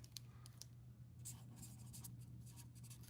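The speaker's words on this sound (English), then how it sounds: "I'm gonna write that down" Quiet handwriting on paper, a faint continuous scratching of pen strokes with short bursts, close and alone over a low steady hum.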